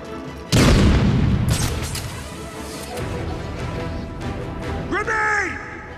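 Grenade blast in the video game Batman: Arkham City, a sudden loud boom that rolls into a long decaying rumble, followed by a shouted voice near the end.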